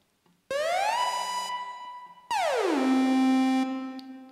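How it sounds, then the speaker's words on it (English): A sawtooth synth lead with a long portamento glides upward into a held note, then swoops down to a lower sustained tone, giving a siren-like wail in an EDM track remake built in FL Studio. "It has a very high portamento time, so we get this slide and this siren-like sound."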